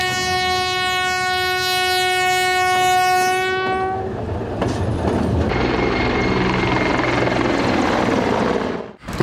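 A military train carrying combat vehicles crosses a bridge. It opens with a long, loud horn blast, then gives way to heavy rolling rumble mixed with the thudding rotors of two Mi-24 helicopters overhead.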